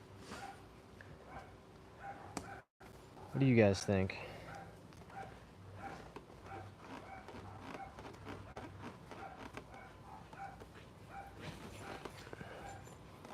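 Dogs out in the yard give a brief burst of barks and yips, then a few faint whimpers, heard at a distance under someone talking over the background.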